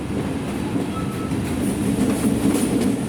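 A Kapotaksha Express train with locomotive No. 6602 rolls along at slow speed just after leaving a station, with a loud steady rumble and clickety-clack of wheels, plus a faint squeal near the end.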